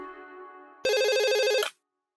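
An electronic phone ringtone plays: a steady tone first, then a louder warbling melodic ring that cuts off abruptly after under a second, leaving silence.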